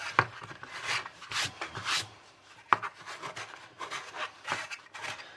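Close, repeated rubbing strokes as rubber cement is worked off a plastic or metal model sprayed with Montana rust-effect paint, uneven scraping bursts in an irregular rhythm with no talking.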